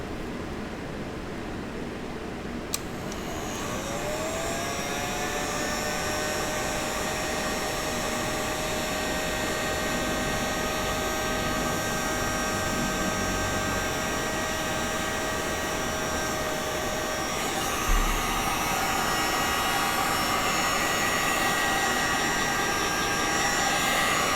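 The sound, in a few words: heat gun blowing on gold leaf prints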